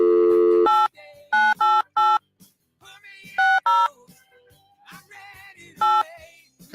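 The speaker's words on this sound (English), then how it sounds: "I called out. I dialed out, and he didn't answer either." A telephone being dialed out for a live radio call: a loud opening tone followed by a rapid series of sharp DTMF keypad beeps in irregular clusters, with quieter line sounds between them.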